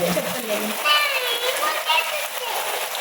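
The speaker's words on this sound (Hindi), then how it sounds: "और देखिए बारिश इतनी अच्छी हो रही" Steady rain falls around a new house with water pooling on muddy ground, a dense hiss of drops spattering on surfaces throughout, with no voices in the clip itself.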